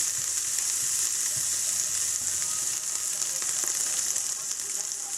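Shallots sautéing in butter over turned-down heat, a dense, even, hissing sizzle that holds steady throughout, close and fairly loud, with faint stirring ticks underneath and no talking.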